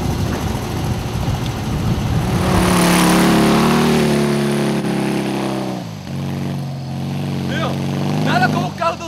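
A Gurgel car engine revs and accelerates close by, its pitch rising and then falling away as it pulls off, with people talking and shouting over it.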